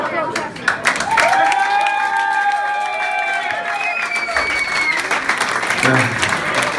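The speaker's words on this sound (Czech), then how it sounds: "A hlavně tleskejte po těch písničkách pořádně." An audience applauds loudly and steadily after songs at a band's album launch concert, a dense wash of clapping with cheering voices rising and falling through it.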